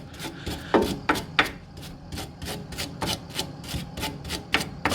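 A wire brush scrubs the bolt thread of a car's stabilizer link in quick, repeated rasping strokes, close and fairly loud with short pauses between.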